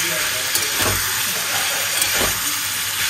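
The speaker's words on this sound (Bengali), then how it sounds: "নুন হলুদ দিয়ে এটাকে ভেজে মিটুলিটাও এর মধ্যে, আলুটা একটু ভাজা হয়ে গেলে মিটুলিটা দেবো" Potatoes seasoned with salt and turmeric fry in a pan, giving a steady close sizzle and hiss with a couple of soft stirring scrapes and no voices.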